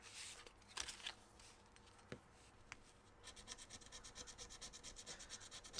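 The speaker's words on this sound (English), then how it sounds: "I love the way Ren's stuff scratches." A scratch-off card is rubbed with quick repeated strokes, close and faint, with a few scattered scrapes early on and a denser, rhythmic run of short scratches in the second half.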